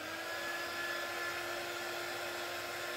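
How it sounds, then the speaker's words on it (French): A heat gun blows hot air onto craft foam, giving a steady, close whirring hiss with a constant motor whine and no talking. "si je prends mon pistolet chauffant, alors il est ici, hein, donc je vous montre, je vais chauffer pendant 10 secondes à peu près"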